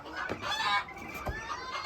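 A white Fênix ornamental chicken clucks close by in a short, busy run of throaty calls with a brief crowing-like stretch, loud and alone.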